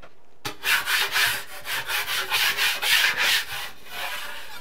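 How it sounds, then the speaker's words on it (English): Drywall mud spread with a knife along the bottom of a stairwell wall, producing a burst of close rhythmic scraping strokes that start abruptly after a moment of quiet and then ease off, with nobody talking. "I am mudding all along the bottom instead of doing baseboard in here"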